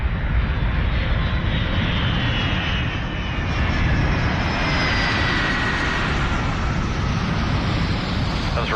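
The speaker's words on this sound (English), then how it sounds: "Gently, the crew eases the huge C-17 to the ground." A huge C-17 Globemaster III jet touches down, its engines giving a loud, broad, continuous roar close by with no break.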